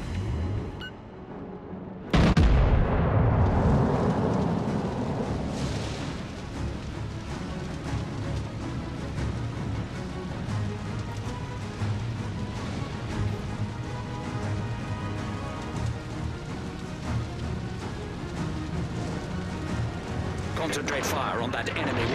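Naval artillery roars from warships in World of Warships: Legends, a heavy boom at the start followed by a sustained loud rumbling wash of battle noise and distant impacts, with a voice speaking over it.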